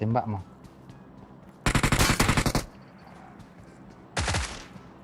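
Gunfire in the mobile battle-royale game PUBG Mobile: two loud bursts of rapid automatic fire, the first longer and the second shorter, after a brief voice at the start.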